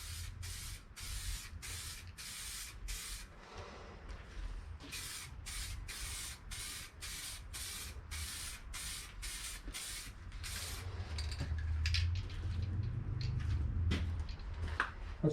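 Spray gun putting a coat of paint on a 2006 Ford F350 part, steady close hissing bursts in a regular on-off rhythm, with a low rumbling hum rising toward the end.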